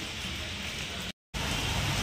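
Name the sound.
heavy rain falling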